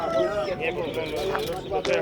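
Rooster crowing and clucking among other fowl at a bird market in Proszowice, close and busy, mixed with people talking nearby.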